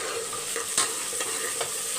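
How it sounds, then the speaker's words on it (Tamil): Ground masala paste for a jackfruit mutton curry frying hard in hot oil, a steady dense sizzle with a few sharper crackles and stirring scrapes, close and alone. "இப்போ இந்த அளவுக்கு பொரிஞ்ச உடனே இப்போ நம்ம அரைச்சி வச்ச விழுதை சேர்த்துட்டோம்."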